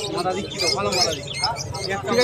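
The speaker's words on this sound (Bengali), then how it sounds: "ভাইয়াটা কি পায়রা ম্যাড্রাস পায়রা তাই তো" Madras pigeons at a pigeon market coo in soft, throaty bursts close by, mixed with chirps from other birds while people talk over them.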